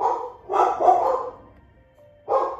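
A dog barks up close in three loud bursts, the first two rapid and close together, then a pause before a final bark.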